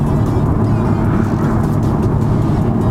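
BMW M135i six-cylinder engine with a stage 1 tune and aftermarket downpipe, a steady loud drone heard from inside the car while driving, with no talk over it.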